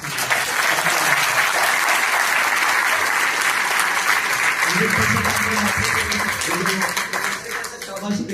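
Sustained applause from an audience at a large RCM company gathering, dense and steady throughout, with a voice or crowd murmur rising underneath near the end.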